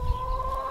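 Laying hens cluck in a steady, drawn-out tone, nearby and fairly loud, with low rumbling background noise and no talking.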